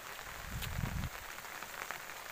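Rain falls on a waterlogged bitter gourd field, giving a soft, continuous hiss with a brief low rumble early on and no voices.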